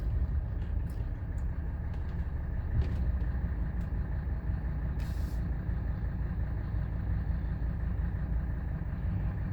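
A Mercedes OM617 diesel engine idles steadily after coming to a stop, a constant low rumble with faint ticks and a brief hiss, no voices.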